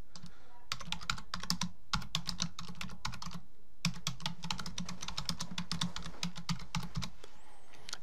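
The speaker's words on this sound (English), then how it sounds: "type in the details of the party." Keys clatter on a computer keyboard in quick bursts of typing, separated by short pauses, close and fairly quiet, with no one talking.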